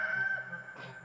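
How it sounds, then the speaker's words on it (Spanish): A rooster gives a single short, hoarse crow, fairly close and loud against a quiet background. "Ya se puso ronco el gallo"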